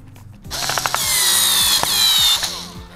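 A power drill drives a screw into a wooden board for a small loom build, a loud close whirring whine starting after a brief pause, steady for two seconds with a few knocks, then winding down.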